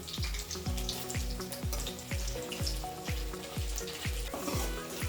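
Cauliflower frying in masala in a pan, a steady close sizzle with a regular series of soft metallic knocks from turning the pieces, continuous and even throughout.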